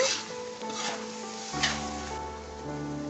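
Sardine curry being stirred in a pot as tamarind water goes in, a soft scraping and sloshing with light sizzle, with a few stronger strokes, close and moderately quiet.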